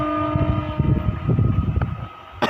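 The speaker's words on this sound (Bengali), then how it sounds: "দেখুন দেখুন ট্রেনটা যাচ্ছে, ট্রেনটা চলে গেল।" A train passes close to a house, a loud rolling rumble with sustained tonal whine that swells and fades, ending in a sharp burst.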